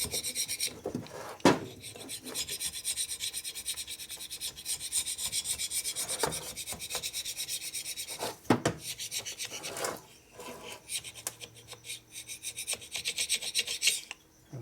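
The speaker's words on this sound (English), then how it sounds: "so I'm cutting aluminum down a little bit with a scraper because there's a high spot there." A hand scraper shaves a high spot of aluminum near a dowel pin on an S&S 113ci Evo motor cylinder, giving a continuous close rasping scrape with short sharp catches and brief pauses.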